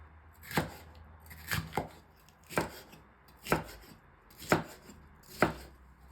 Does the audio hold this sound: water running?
no